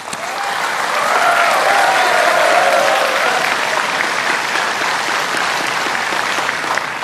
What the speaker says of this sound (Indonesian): Silahkan tepuk tangan.